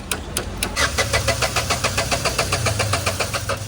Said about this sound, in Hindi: फाइनली गाड़ी चालू हो गई है।